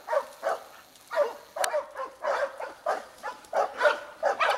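Four hunting dogs bark in a steady, repeated chorus at a bailed black and white pig in snowy country, rhythmic loud barks at close to middle distance.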